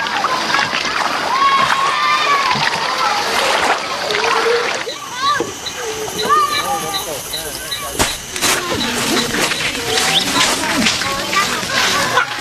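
Kayapo people swimming in an Amazon river, with repeated splashes and sloshing water amid lively overlapping voices and shouts, close by and continuous.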